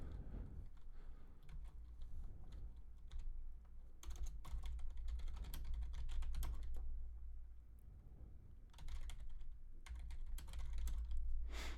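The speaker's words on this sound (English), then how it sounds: "Let me keep typing this." Close, quiet clatter of fingers typing on a computer keyboard in irregular bursts with short pauses, over a low steady hum.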